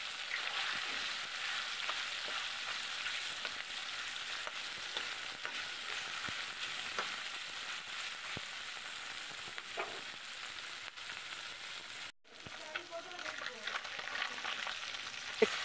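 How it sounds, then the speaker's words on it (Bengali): Small morla fish sizzling in plenty of hot oil in a pan, a loud, dense, continuous crackle heard up close, with a brief break near the end before the frying resumes, and no voices. "মাছগুলো এবার তেলের ওপরে দিয়ে দিলাম।"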